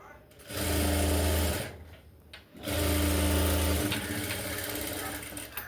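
A sewing machine stitching a blouse runs in two loud, steady bursts with a short pause between them, close up.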